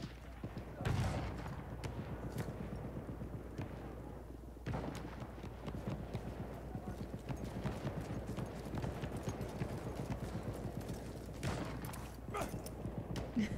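Sniper rifle shots crack out in a Battlefield 1 team deathmatch, a few sharp, distant reports spaced seconds apart over steady clip-clopping hoofbeats and background battle noise, with a voice talking at times.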